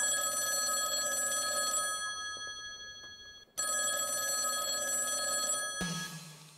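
Landline telephone rings in two long electronic bursts separated by a short pause, loud and close with no voices over it, in an indoor comedy sketch set in a clinic.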